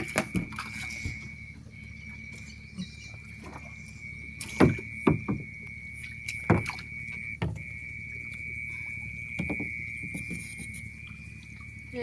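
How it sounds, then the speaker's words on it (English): A rowboat is paddled with a single oar, giving several sharp, irregular splashes and knocks of the oar against water and hull over a steady high whine and faint background noise. "I got my oar. I'm about to get paddling."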